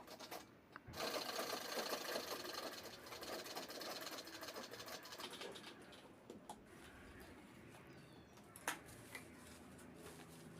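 A sewing machine runs steadily, stitching together pieces cut from a saree pallu to form a bag; the motor's continuous whir holds close and fairly loud before easing slightly, with a sharp click near the end.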